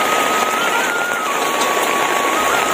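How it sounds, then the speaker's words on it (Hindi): Dense, steady hiss of heavy rain pouring down, with a faint tonal whine running underneath. "उसी टाइम ये ऐसा हालत हो गया, बारिश शुरू हो गया"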